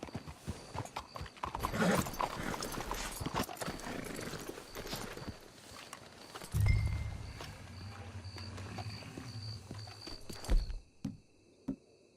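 Hooves clip-clopping in an uneven rhythm in the video game Red Dead Redemption 2, with a horse snorting and whinnying, a heavy thunk midway, and the trotting fading toward the end.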